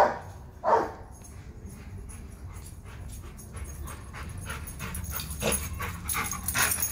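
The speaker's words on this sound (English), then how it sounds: "Quit barking. No more barking." A dog pants and gives a few short, fairly close barks and yips amid light background noise.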